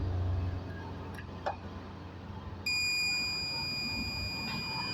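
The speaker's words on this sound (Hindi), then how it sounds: "तो जब हम NC और पोल पर लगाएंगे तो बीप का आवाज़ आना चाहिए।" A continuity tester probed across the contacts of a changeover switch gives off a steady high electronic beep that starts partway through and holds until the end, loud and close over low background hum.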